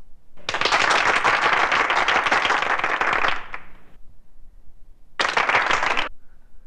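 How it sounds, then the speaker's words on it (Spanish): Audience applause for a young speaker at a political event in Colombia: a long, loud burst of dense clapping, then a pause, then a second shorter burst of clapping. "Y gracias por esos aplausos."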